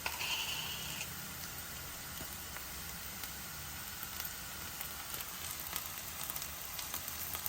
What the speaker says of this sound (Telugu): అల్లం వెల్లుల్లిపాయ పేస్ట్ కూడా వేస్తే రెండు కలిపి వేగుతాయి